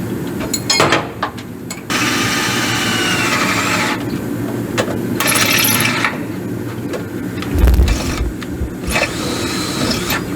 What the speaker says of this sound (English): Alright, let me drill them holes out.